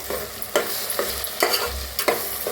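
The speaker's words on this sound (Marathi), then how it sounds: "हलवून छान असा भाजून घेऊया" Homemade masala roasting in oil in a pan for a spicy chicken gravy, stirred with a steady sizzle and four sharp scraping strokes roughly every half second, close and clear with no talking.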